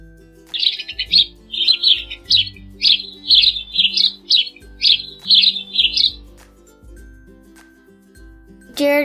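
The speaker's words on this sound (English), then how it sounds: "Penguin." A penguin call of repeated loud, harsh squawking bursts in a steady rhythm, close and clear, with a low deep tone sounding between the calls.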